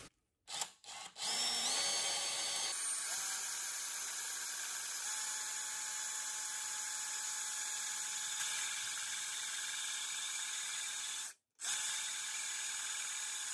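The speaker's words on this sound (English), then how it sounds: "I've got my Craftsman drill, and I've got a 3/16 bit" A Craftsman drill fitted with a 3/16 bit bores into concrete, starting with a few short bursts, then running as a long, steady, high whine with grinding texture before briefly stopping and starting again.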